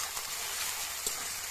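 Ginger fries in a pan with melted tomato, giving a quiet, steady sizzle and faint hiss with a small tap near the end and no voices.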